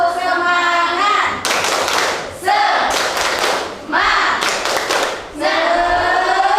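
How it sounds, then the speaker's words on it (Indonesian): A school class of seventh graders does a rhythmic spirit clap in bursts, with hands striking together in short patterned volleys separated by a teacher's talking voice, loud and close in a classroom. "mari kita bertepuk semangat terlebih dahulu"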